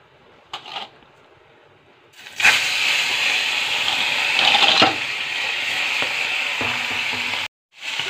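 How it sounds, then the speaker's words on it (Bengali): Pieces of bata fish rubbed with salt and turmeric drop into hot oil. After a couple of soft clicks, a sudden loud, steady sizzle erupts close by and holds for several seconds before cutting off abruptly. "তেলটা গরম হয়ে গেছে, এখন আমি মাছগুলো এর মধ্যে ছেড়ে দেব"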